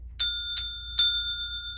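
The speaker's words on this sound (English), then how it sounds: "first thing we do is we ring our bell" A small bell rings three clear times at story time, each strike bright and ringing with a high, sustained tone that fades slowly after the last one. The room stays otherwise quiet.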